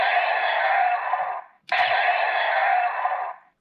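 A Gaburevolver toy gun from Zyuden Sentai Kyoryuger firing its electronic sound effect: a loud, buzzy synthetic tone held for about a second and a half, a brief click, then the same tone again, heard alone.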